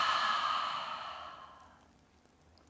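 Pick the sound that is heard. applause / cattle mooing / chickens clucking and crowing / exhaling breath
exhaling breath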